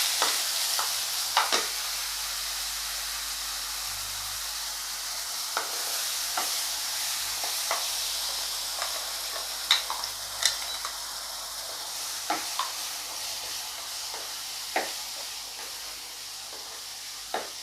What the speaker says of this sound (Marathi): मसाला आपण 2 मिनिटं चांगला परतून घेऊया.